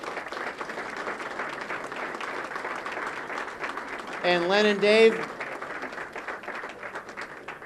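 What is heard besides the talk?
applause for the election winners Len and Dave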